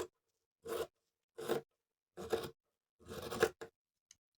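Scissors cut through a fur coat and its lining in five separate crunchy snips, each a distinct rasping cut with brief pauses between, close and clear with no talking.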